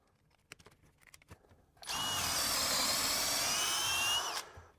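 A SKIL 12V drill in drill mode with a larger bit gives a few light clicks, then a steady high whirring bore of about two and a half seconds, near and loud, before winding down; no one talks.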